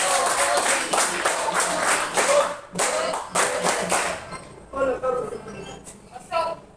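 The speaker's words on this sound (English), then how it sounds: "Now let us give ourselves a good clap." A classroom of students clapping together, a steady burst of loud, close applause that thins into scattered claps and taps near the end, with a few voices heard among it.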